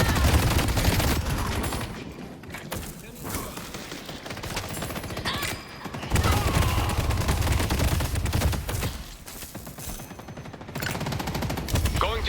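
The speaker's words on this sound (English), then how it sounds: "these turrets are shredding me" Turret gunfire in the game Deadlock pours out in long, loud, rapid automatic bursts separated by brief lulls, with a voice speaking now and then over the shooting.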